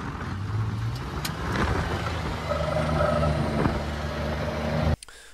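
Worn-out Kawasaki Mule CVT utility vehicle pulling away in high gear, a steady close engine drone with a rising whine before cutting off abruptly near the end.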